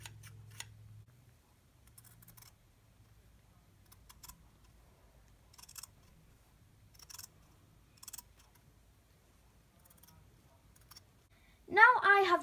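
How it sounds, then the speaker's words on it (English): Scissors trimming excess fabric around the edge of a handmade sewn cushion: a series of faint, sparse snips at irregular intervals, with a soft voice briefly at the start. "we're going to get our scissors and we're going to trim."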